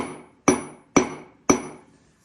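A hammer strikes a millstone being dressed, three evenly spaced, sharp ringing blows about half a second apart, each close and loud with a short metallic decay, and no talking.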